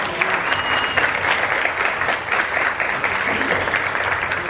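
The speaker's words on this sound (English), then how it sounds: "So a big applause to Luis Angel." An audience at a press conference for Disney Pixar's Coco in Mexico claps steadily, a dense, sustained burst of applause filling the room.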